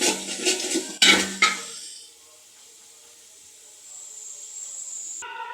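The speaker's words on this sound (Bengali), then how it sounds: "এই মুহূর্তে আমরা সবজিটা ঢেলে দিলাম। সবজিটা পাতিলে দিয়ে নাড়াচাড়া করতে হবে" Vegetables clatter into a cooking pot over ginger and garlic paste, with loud metallic scraping and stirring for about two seconds before fading to a quiet hiss and faint background hum.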